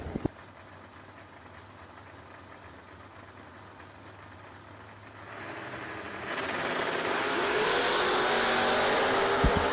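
Door-car drag racers at a drag strip, engines idling with a low steady rumble before a rising, harsh roar as the cars launch and accelerate away, growing loud and dense toward the end.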